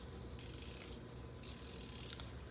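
A Capri Tools 100-tooth ratcheting wrench clicking: two bursts of fine, rapid ratchet clicks, each about half a second long and separated by a short pause, close and crisp in a quiet room.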